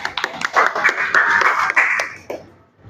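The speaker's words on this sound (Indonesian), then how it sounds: "tepuk tangan Mbak Gila." A class in an Indonesian lesson claps together briefly, a quick scatter of many hands that builds for about two seconds and then fades out.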